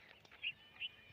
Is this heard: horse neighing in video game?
no